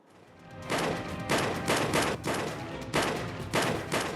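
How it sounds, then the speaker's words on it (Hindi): Several sharp, loud bangs go off in quick succession, roughly evenly spaced, like close gunshots echoing, during a daylight shooting and bomb attack in Prayagraj. "बम से हमला, ताबड़तोड़ फायरिंग, सरेआम दहशत"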